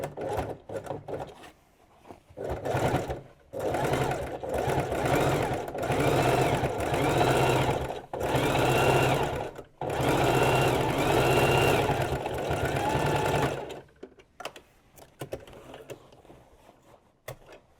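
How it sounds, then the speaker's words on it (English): A sewing machine drives a double top stitch seam on a denim jacket in repeated bursts, loud close whirring broken by brief pauses, then stopping as light handling noises follow. "And now we will do for both sides each a double top stitch seam."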